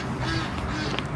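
A mother duck and her ducklings at a farm give soft, faint quacking calls against a low background hum, with no talking.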